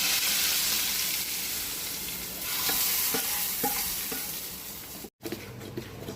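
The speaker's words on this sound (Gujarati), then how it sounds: "આ બધો વઘાર એક સાથે હું આ બેટરમાં નાખી દઈશ" Hot spice tempering with sesame seeds poured into handvo batter for a Gujarati vegetable handvo, a loud bubbling sizzle that softens as it mixes in, with faint clinks of a utensil and a brief cut near the end.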